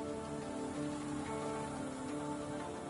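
Steady rain hiss in the racing game F1 Manager 2022, a constant wash of falling drops at an even, moderate level with no voices.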